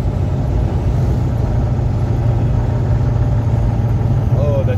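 Morning road traffic in Lusaka with trucks, a continuous low engine rumble and idling drone holding steady throughout, dense and close.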